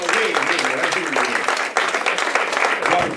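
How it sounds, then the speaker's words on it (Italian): An audience at a mentalist's stage show claps for a volunteer in a loud, sustained round of applause, with a voice talking over the clapping throughout. "Un bel applauso per Stefano"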